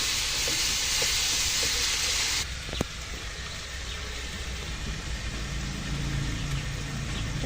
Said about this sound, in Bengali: সব কিছু দিয়ে একটু ভালো করে কষিয়ে নেবো